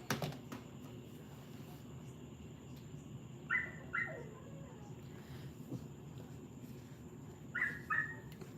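A dog whines in a few short, high, drawn-out cries, two close together, then a pause and another pair, over a quiet room hum.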